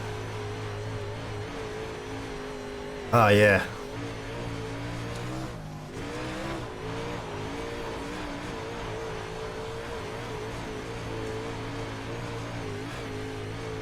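A dirt race car in the iRacing sim at Oswego dirt track runs with a steady engine drone and tire noise, broken by a brief loud burst near the start; someone says a few words.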